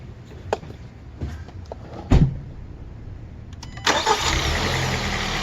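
A 2016 Kia Sorento starts after a battery swap: a few clicks and a thump, then the engine cranks and catches into a loud, steady idle.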